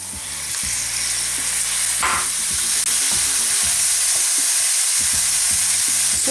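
Minced meat and onion sauté loudly in a hot pan, with a dense, continuous sizzle that stays close and even throughout.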